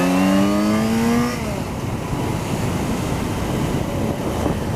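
Yamaha XJ6 Diversion motorcycle rides at slow speed, its engine note easing down from a brief higher pitch into a steady low rumble beneath loud wind noise.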